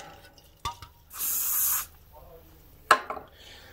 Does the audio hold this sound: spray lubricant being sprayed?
yes